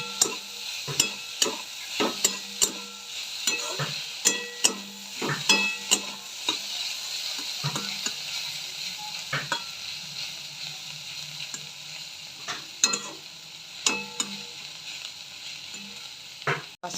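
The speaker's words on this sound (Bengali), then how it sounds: "ওখানে মাশরুম ভাজা হচ্ছে" Mushrooms fry in a pan with a steady sizzle while a spatula stirs them, giving many sharp scrapes and taps at an uneven pace, close and alone.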